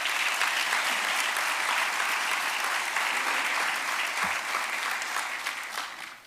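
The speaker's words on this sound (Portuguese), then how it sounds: "Aqui eu peço também uma salva de palmas para ambos." Audience applause at a municipal swearing-in ceremony for new local government bodies, a steady, dense clapping from a large crowd that holds for several seconds and then begins to fade at the end.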